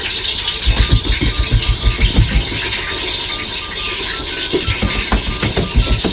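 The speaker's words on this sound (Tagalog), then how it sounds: "nagpainit na rin ako ng mantika para mapalundag na natin tong apat na isda na to" Four fairly large fish frying in hot oil in a home kitchen, a continuous loud sizzle and hiss with rapid crackling pops pulsing through it, close up and alone without talk.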